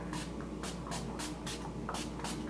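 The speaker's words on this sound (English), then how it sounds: "And then with the Urban Decay All Nighter Setting Spray" Repeated quick hissing sprays of an Urban Decay All Nighter setting spray, about six short bursts in a steady rhythm, close and clear over a low background hum.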